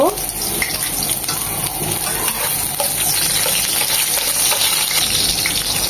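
Chopped garlic frying in hot soybean oil makes a dense, steady sizzle that stays loud and close for the whole stretch, with no pause or change in intensity.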